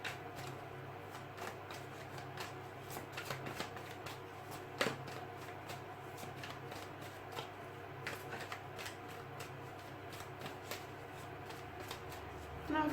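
Tarot cards being shuffled close by, a steady papery riffle and flutter with quick repeated snaps, kept up for many seconds at low volume over a faint room hum.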